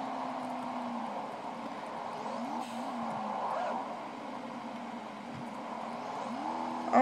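A fast car driving in the BeamNG.drive video game, its engine a low, faint, steady drone with the pitch wavering up and down, ending in a sharp short rise.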